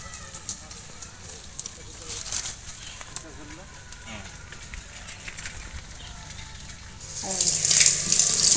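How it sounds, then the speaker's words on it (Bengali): Tap water runs while raw mangoes are washed in a kitchen, a low trickle for most of the stretch that swells into a loud, hissing gush near the end. "আমগুলোকে আমি পরিষ্কার করে ধুয়ে নিয়েছি।"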